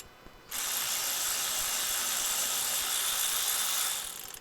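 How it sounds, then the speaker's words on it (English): A hand ratchet with a socket is cranked steadily on a Dodge Charger crew cab under restoration, making a loud, continuous fast clicking that runs for several seconds before stopping. "I have the ratchet right here"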